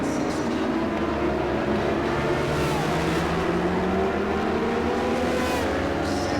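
Racing motorcycles lapping Buddh International Circuit at dusk, a loud continuous engine howl with rising and falling pitch as several bikes pass close by.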